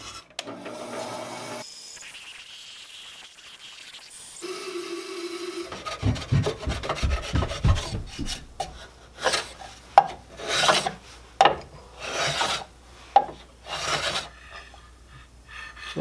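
A wooden acoustic guitar peg head is rasped by hand to thin it, first with quieter rubbing and then with loud, close, rhythmic filing strokes in uneven bursts.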